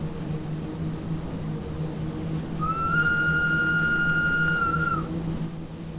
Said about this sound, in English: It's definitely a classic steam train style whistle